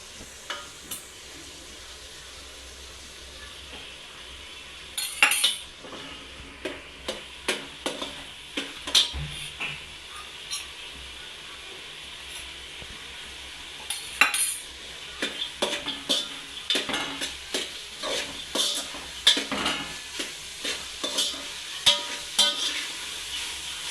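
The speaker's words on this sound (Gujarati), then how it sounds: "હવે આને પાકવા દેવાના તેલમાં મગ પાકી જશે" Mung beans fry in hot oil with turmeric, sizzling steadily while a utensil stirs them, giving repeated scraping clinks and knocks against the pan at an uneven rhythm, close and clear, with no talking.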